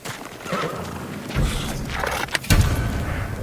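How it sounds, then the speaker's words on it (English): A samurai horse in the video game Ghost of Tsushima whinnies and snorts close by, with clip-clopping hooves and a louder burst near the end, alone without talk. "They're samurai horses."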